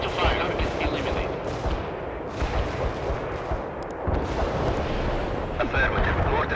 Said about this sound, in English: Mortars will fire at the provided coordinates.